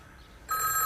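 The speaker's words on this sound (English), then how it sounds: "Oh, it's my phone." A telephone starts ringing halfway through, a bright bell-like trill that begins abruptly after a quiet moment and continues briefly at moderate loudness, alone without speech.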